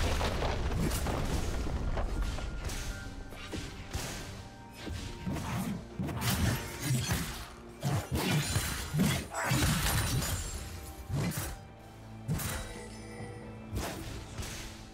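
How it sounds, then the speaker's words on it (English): League of Legends turret destruction amid top-lane fighting, with repeated heavy crashes, shattering impacts and booms layered over continuous game effects and music. "Team's turret has been destroyed."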